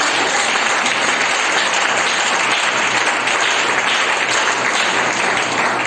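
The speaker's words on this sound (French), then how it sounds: "Donnez à Dieu une acclamation." A church congregation breaks into loud, sustained applause and cheering acclamation for God during a French-language sermon, a dense, steady roar of clapping filling the whole stretch.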